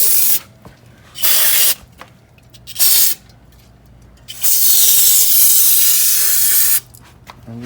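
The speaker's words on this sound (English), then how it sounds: "I always give a little shot of brake cleaner." Brake cleaner sprayed from an aerosol can onto a car wheel hub during a winter tire swap on a GR Corolla, heard as several loud, close hissing bursts of varying length, the longest lasting about two seconds, with quiet gaps between them.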